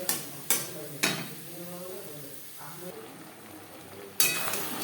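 Marinated chicken leg pieces are stir-fried over high to medium flame for butter chicken, a steady sizzle broken by several sharp clinks of a spoon against the pan.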